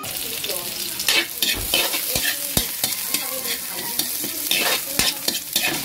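Chayote shoots and fruit being stir-fried with fried galunggong fish in a pan, a steady close sizzle broken by repeated scraping and clacking of the spatula against the pan.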